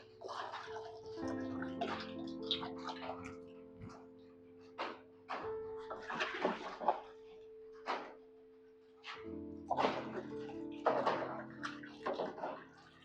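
Foam chemical is poured into about five litres of water in a container while mixing for CLC blocks without machines. It makes intermittent sloshing and splashing bursts with brief pauses, heard close up over a faint steady hum.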